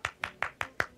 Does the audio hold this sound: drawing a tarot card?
no